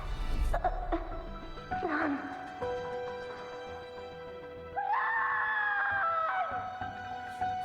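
A character in the video game Wuthering Waves lets out a long, wavering scream over game music, with rising and falling drawn-out cries.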